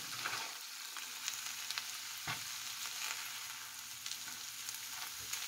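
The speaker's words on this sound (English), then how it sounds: "Now you can see why I do this in the skillet here for. Is so I can brown the meat a little bit." Meat browning dry in a skillet for pulled pork gives a quiet, steady sizzle and crackle, with a few faint clicks scattered through it and no talking.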